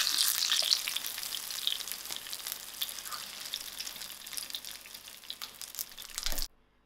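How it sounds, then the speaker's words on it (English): Brinjal frying in hot oil gives a continuous crackling sizzle with scattered pops, loud and close, fading slightly before cutting off at the end. "that I use for frying my brinjal and veg fish"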